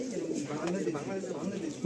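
Pigeons of the big-size Nazra Kaldom breed coo in a loft, a steady low murmuring that runs throughout, close and moderately loud.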